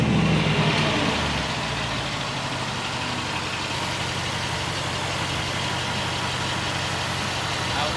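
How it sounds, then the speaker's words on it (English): A BMW E28 with a big turbo idles steadily at close range, a low continuous hum with a brief louder rumble at the start as its air suspension raises, no voices. "Start engine to raise vehicle."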